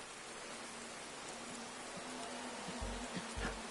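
Rain falls on the Nurburgring track in the racing game Project CARS 2, a faint, steady hiss of pattering drops with a low hum and occasional soft thuds underneath.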